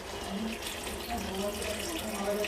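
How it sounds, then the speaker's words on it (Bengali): Water is poured into a pot of cooking chicken for biryani, a faint continuous trickling and splashing that runs steadily throughout at low level, with no clear pauses. "এবার এর মধ্যে পরিমাণ মতো জল দিতে হবে"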